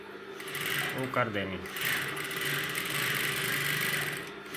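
A sewing machine runs in a steady, even whir as it stitches a kanchli blouse, and someone talks softly over the hum.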